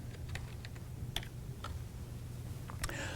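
Typing on a computer keyboard in a quiet room: scattered, fairly faint key clicks in short irregular bursts over a low steady hum, with no talking.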